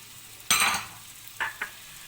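Spices and tomatoes for bhindi masala hit a hot pan with a sharp burst of sizzling, followed by two short stirring scrapes and sizzles, close and distinct against a quiet background.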